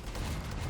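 Loud, dense rapid-fire turret gunfire in the video game Endzone 2 roars continuously, a sustained blast of overlapping shots with heavy low-end rumble and no talking.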